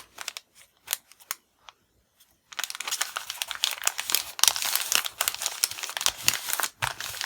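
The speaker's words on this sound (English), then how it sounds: "Hear that crunch that tracing paper makes?" Tracing paper crunches and crinkles while being handled and glued down on an art journal page, first in a few sparse crackles, then in dense, continuous rustling close to the listener, with no voices.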